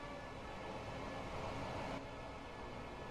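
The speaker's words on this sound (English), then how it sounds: "This train is a BR Class 801 electric multiple unit in LNER livery." BR Class 801 electric multiple unit in LNER livery in Train Sim World 5 on the East Coast Main Line, a steady faint rumble and hiss of the running train throughout, no voices.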